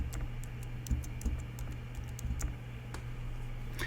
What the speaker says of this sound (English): So I need to type in acetone.